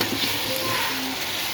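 Vegetables with three whole green chillies sizzle steadily in a pan for Chinese rice, an even, close frying hiss with light stirring.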